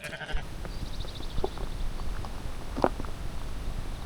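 Sheep bleating a couple of times amid outdoor rustle and shuffling on a mountain hiking path in the Alps, France, moderately close, with a steady background hiss.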